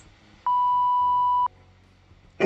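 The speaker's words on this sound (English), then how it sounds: "I did a censor beep" A single pure censor beep sounds for about one second, loud and steady, set against quiet room tone with a faint noise at the very end.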